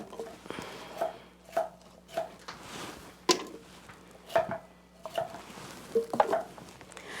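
A knife chops squash (sweet pumpkin) on a cutting board for juice, with a steady series of crisp close knocks, roughly one or two per second, with faint kitchen clatter.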